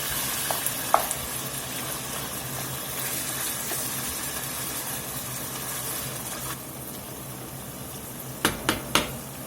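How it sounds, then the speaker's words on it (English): Fatty ground lamb browning in a pan for shepherd's pie, giving a steady moderate sizzle with a few soft clicks and louder stirring knocks near the end, no talking. "Let's toss it around a little bit. Most of that moisture should be cooked out. Start browning up real good now."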